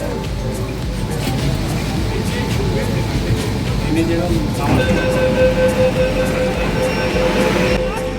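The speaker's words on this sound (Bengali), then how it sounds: "মেট্রো এসে গেছে" Rumbling underwater metro train at Howrah's under-river station, with a steady low roar and tonal whine, crowd murmur and voices mixed in, continuous throughout.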